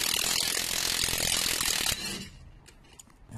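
An impact gun fitted with a non-impact socket works on a Discovery 2 anti-roll bar bolt: a loud continuous rattling hammer for about two seconds, then it stops, leaving faint clicks and workshop noise.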